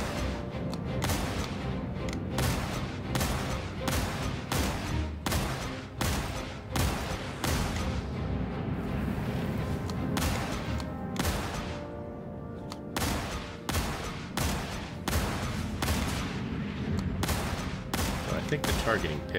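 Ship cannons fire in the Star Citizen space combat game, a steady rapid run of sharp shots that carries on for the whole stretch over a dense, droning engine rumble. There is no talking.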